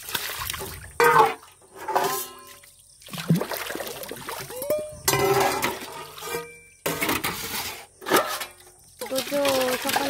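Water splashing and trickling as washed dishes are rinsed in a home kitchen, in intermittent close bursts with clinks of dishware, while someone talks throughout.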